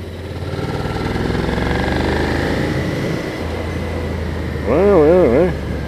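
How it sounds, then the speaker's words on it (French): Suzuki SV650 V-twin motorcycle engine running steadily at idle, a low throbbing rumble under someone talking nearby, with a brief swelling rev near the end. "J'aime bien les moteurs en V comme ça, les V-twin"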